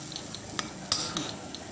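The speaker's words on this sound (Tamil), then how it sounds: "மசாலா ஒரு பெரட்டிக்கோங்க." A spoon scrapes and clinks in a pan of masala for kidney bean curry over a soft sizzle, a few quiet stirring strokes close by.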